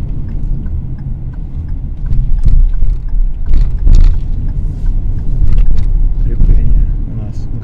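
A Hyundai Creta in manual mode pulls away in second gear, its engine rumbling and swelling under acceleration, with road and cabin noise throughout and someone talking over it.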